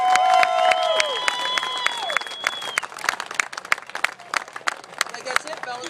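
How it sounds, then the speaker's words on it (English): Audience clapping at an award ceremony, dense broadband claps with some whooping and whistling, people talking and calling out over it before it thins toward the end. "give them one more round of applause"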